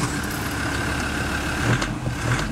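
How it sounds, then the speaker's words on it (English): Land Rover Defender with 126,000 miles, its engine running at a steady, close, rumbling idle with no one speaking. "The unmistakable noise of a Defender"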